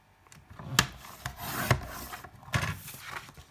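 Paper trimmer slicing sheets of card for a craft flip book: three quick, close rasping cuts spaced about a second apart, with soft handling noise between them and no talk.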